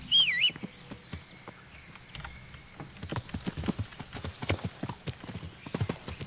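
Rhythmic clip-clop of horse hooves trotting on a hard surface in the video game Kingdom Come: Deliverance, steady and fairly close, with faint bird chirps and a brief whinny-like sound at the start.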